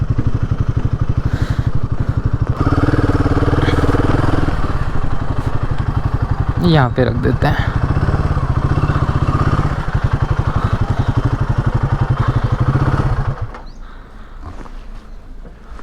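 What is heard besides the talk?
motorcycle being parked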